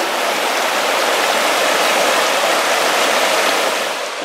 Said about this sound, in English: here we are at another ford of the Smith River